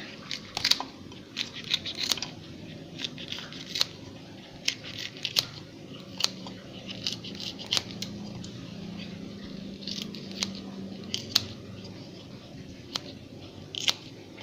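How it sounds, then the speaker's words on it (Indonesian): Repeated sharp snipping clicks from scissors cutting chili peppers, irregular and close, over a low steady background hum. "sekarang saya gunting cabenya"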